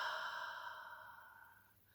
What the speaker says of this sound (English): the noisy releasing out breath